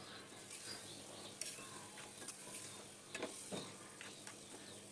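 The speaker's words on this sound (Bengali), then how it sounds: "এখন ধুয়ে রাখা ফ্যাপসাগুলো আমি দিয়ে দিব। দিয়ে একটু নেড়ে চেড়ে কষিয়ে নেব।" Washed phapsa fish is stirred and fried in spice masala with a soft, close sizzle. Quiet scrapes and utensil knocks sound throughout, a little louder near the middle.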